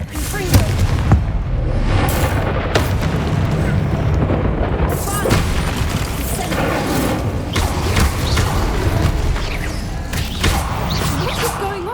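Confringo fire spell explosions in the Hogwarts Legacy video game, heavy booming blasts and whooshes layered in dense, continuous loud combat with a talking voice mixed in.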